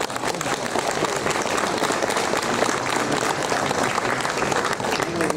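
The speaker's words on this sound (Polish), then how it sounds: "Wielkie brawa." Dense, sustained applause from a large crowd fills a hall at a Polish political party convention, steady and loud throughout without a break.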